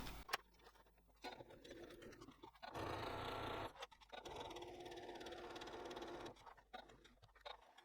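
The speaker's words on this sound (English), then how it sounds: "So I'm going to stitch up here, across and back down, and that'll close everything up and top stitch it nicely on the flap." A sewing machine runs in short and longer bursts while top stitching across a fabric flap on a clamshell sling, its rapid mechanical whir close and clear, with pauses and small handling scratches between runs.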